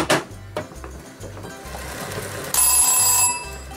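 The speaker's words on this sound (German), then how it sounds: "Müsste also jeden Moment der Wecker klingeln." A kitchen timer rings while pasta with tuna and capers simmers, sounding as a rapid train of repeated pulses that grows louder and brighter partway through.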